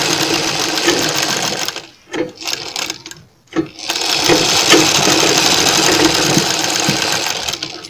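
A sewing machine stitches pearl-trimmed lace onto a fabric frill, its motor whirring loudly and steadily up close. The whir stops briefly twice near the middle, then runs on continuously.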